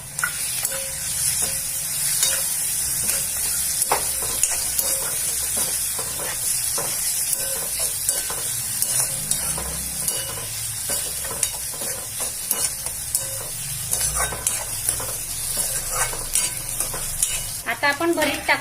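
Crushed green chili thecha fries in a pan for Khandeshi bharit, giving a dense, continuous sizzle and crackle up close, with scattered stirring clatter throughout and no voices.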